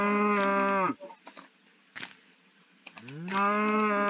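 A Minecraft cow lets out two drawn-out moos, each a loud, close, tonal groan, with faint clicks and game noises in the gap between them.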